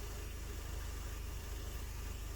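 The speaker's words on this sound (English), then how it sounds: "The car's idling better than it has in I don't know how long." A 2013 Cadillac ATS with the 2.0-liter engine idles smoothly after a crankshaft position sensor replacement, a steady low rhythmic hum heard up close and alone, with no talk.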